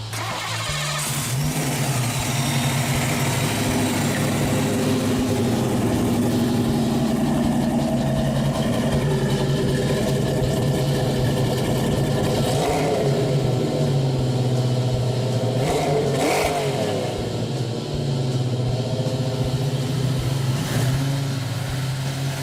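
A Ford 5.0-liter High Output V8 cranks and fires, then idles with a deep, steady rumble and rises into several loud revs, close and continuous with no talking.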